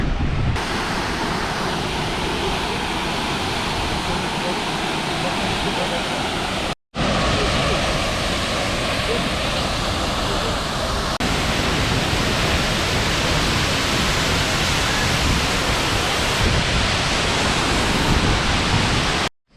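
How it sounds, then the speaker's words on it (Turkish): The Tortum waterfall plunging from 42 metres, a loud, continuous roar of crashing water with broad rushing noise that fills the scene, broken only by two brief cuts. "Şelale şurada arkadaşlar. 42 metre yükseklikten yere düşüyormuş."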